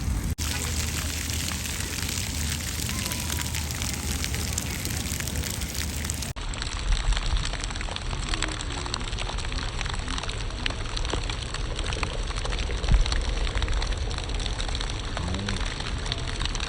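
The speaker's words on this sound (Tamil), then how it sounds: "இங்க பாரு தண்ணி வருது." Sewage water pouring steadily from buildings and hotels into the sea, a continuous splashing rush with faint background noise throughout, no voices.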